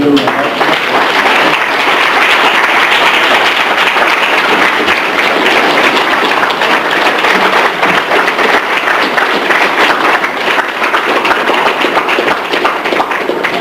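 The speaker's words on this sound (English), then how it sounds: "let's give the brother a round of applause" An audience at a lecture on African religion and history gives the speaker a round of applause. The clapping is loud, dense and steady, filling the whole span without a break.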